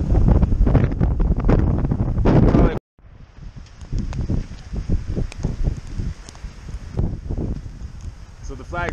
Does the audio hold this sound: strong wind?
yes